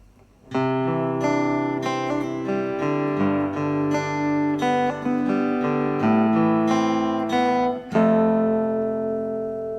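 An acoustic guitar plays an intro chord progression starting from C, with picked, ringing notes at a moderate pace, ending on a strummed chord that sustains.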